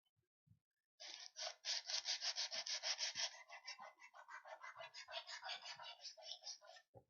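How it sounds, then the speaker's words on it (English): A wooden knife handle for a deba knife is sanded flat in one pass after pass, a quick run of rhythmic rasping strokes, close and fairly quiet, following a couple of faint knocks. "I'm sanding that entire surface all at once."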